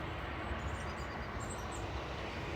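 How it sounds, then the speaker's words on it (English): A train passes near a narrowboat moored in winter countryside, giving a steady broadband rumble and rush with faint higher rail squeals, moderately distant and continuous. "Oh, there's another train."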